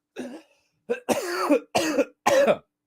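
A single person coughs in a short burst of four or five harsh, close hacks, loud and alone with no talking around it.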